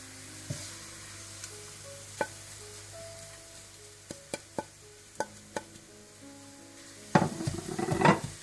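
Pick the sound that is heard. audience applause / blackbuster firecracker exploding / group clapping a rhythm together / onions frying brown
onions frying brown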